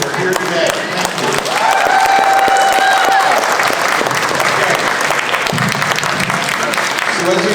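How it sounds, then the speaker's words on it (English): At a disability rights rally, a large crowd applauds loudly and steadily for the Senate and Assembly, the thick clapping mixed with scattered cheers and voices. "Big round of applause for the Senate and the Assembly who are here today."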